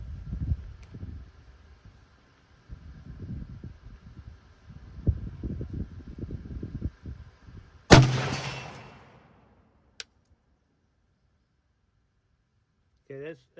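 A single loud, sharp rifle shot from a Springfield M1C Garand with M82 scope rings out mid-clip and decays quickly, preceded by a man's speech and followed by silence with a faint click.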